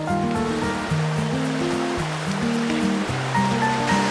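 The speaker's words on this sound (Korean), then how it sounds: "계곡물이 끝내줘." A deep mountain valley stream in winter rushes and pours steadily and loudly from start to finish, a constant full roar with no voices.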